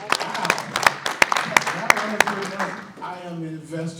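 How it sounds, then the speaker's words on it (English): Audience at a real estate investment club meeting gives a short burst of hand clapping and cheering, sharp claps over the first three seconds fading into voices and a whoop. "Can we get a little hand clap for that?"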